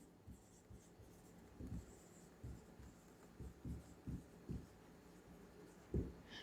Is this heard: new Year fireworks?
no